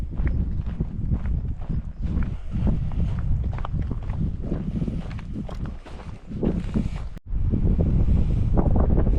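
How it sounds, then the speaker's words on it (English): Strong gusty wind buffets the microphone on a backpacking trail from Mt Laguna to Cuyamaca State Park, a loud constant roar with crunchy footsteps beneath it and a brief dropout near the end. "Well, the wind's picking up"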